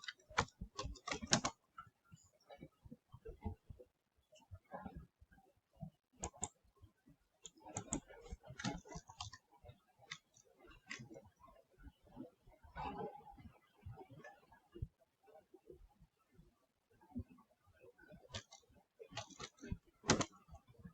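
Fast, irregular keyboard typing while coding, dense bursts of clicks with short pauses, close and fairly loud with no talking over it.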